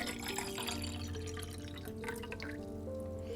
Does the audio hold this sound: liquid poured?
yes